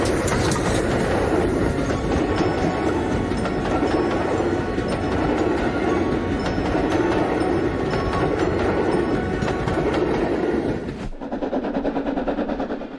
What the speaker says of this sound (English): steam locomotive 4079 Pendennis Castle continues its journey on the Gloucestershire-Warwickshire Steam Railway